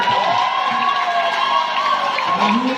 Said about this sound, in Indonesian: Baik, tepuk tangan Bapak Ibu